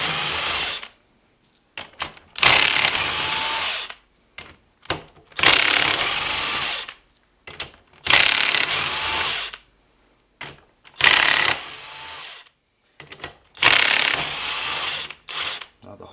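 Impact gun loosening ring gear bolts on an AWD drivetrain: repeated loud bursts of rapid hammering, each lasting one to two seconds, separated by short silences, close and sharp with faint ratcheting between bursts.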